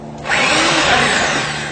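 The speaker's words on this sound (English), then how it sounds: "Push hard on the back of the drill." A power drill spins up after a brief moment and whines steadily at high speed while driving into a piece of wood held up, close and loud, with no talking.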